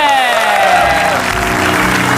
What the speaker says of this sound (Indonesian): Oke, tepuk tangan untuk Jupe.